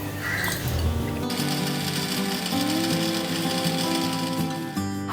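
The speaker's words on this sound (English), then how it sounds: "So I'm transferring the contents into a mixer for dry grinding" A mixer grinder whirs loud and steady as it dry-grinds ingredients for a vegan mug cake, starting with a short rattle before the motor hums continuously up close, then briefly cuts out near the end.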